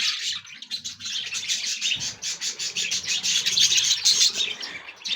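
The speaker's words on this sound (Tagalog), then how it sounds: "Ibong malaya kayong nakakaingit" Free birds chirping and singing outdoors, with dense overlapping high tweets and calls running continuously and fairly close, plus a few faint lower coos or wing flutters beneath.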